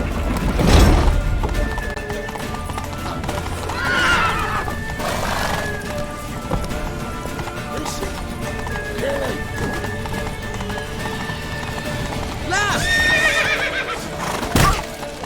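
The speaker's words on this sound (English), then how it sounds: "Grab a horse!" A horse gallops with steady clip-clop hoofbeats and whinnies loudly several times in The Witcher 3: Wild Hunt, with a brief crash near the start.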